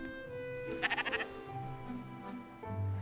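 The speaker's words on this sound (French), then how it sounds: "C'est un mouton. C'est un mouton." A sheep in the video game Spiritfarer gives a short, wavering bleat of several quick pulses, clear against a soft background of game music and ambience.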